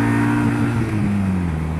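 A Kawasaki W800 Cafe motorcycle exhaust rumbles loudly and close, the engine revving with a rising and falling raspy tone throughout, with no talking.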